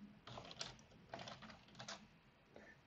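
Fingers tap out a few quick bursts of keystrokes on a computer keyboard, faint and close in a quiet room with short pauses between them.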